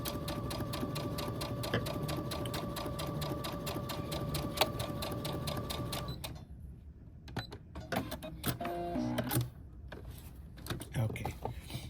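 A sewing machine stitches along one side of a patch pocket lining, a fast rapid rattling run for about six seconds, then stops, followed by fabric handling and a brief voice.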